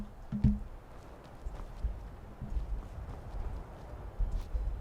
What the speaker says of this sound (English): Horses down there.